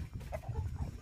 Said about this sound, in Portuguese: O galo cruzando com a galinha ali, gente.